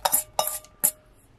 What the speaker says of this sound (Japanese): 先ほど切った冬瓜を鍋に入れて